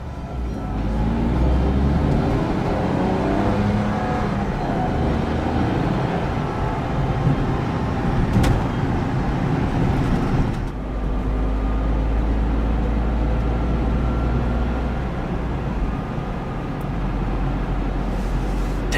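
A 2009 Smart Fortwo Passion coupe drives and accelerates hard, its engine and road noise a steady, loud rumble from inside the car. The tone shifts briefly around a gear change partway through.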